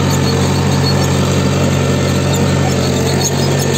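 Engine of a new Mahindra 265 tractor running with a 9-tine cultivator, a steady loud low drone held at constant revs throughout, close and continuous with no voices.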